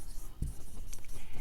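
Chalk or marker scratching on a board during an engineering mathematics lecture, a short close stroke of writing over a faint room hum.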